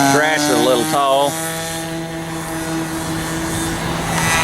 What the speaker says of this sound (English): Show us one of them fancy takeoffs now, Bill.